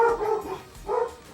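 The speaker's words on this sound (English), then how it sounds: "Puppies are on high alert." Puppies at home bark twice in quick succession, close and fairly loud, the two short bursts separated by a brief pause.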